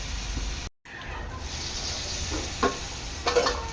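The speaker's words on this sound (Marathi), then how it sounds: "दहा ते पंधरा मिनटं चांगलं थोडंसं मिडियम गॅसवर हे शिजून घ्यायचं आहे" Tuna fish burji cooks in a pan on medium gas, giving a soft, steady sizzle with faint stirring scrapes and a brief gap, quiet and close.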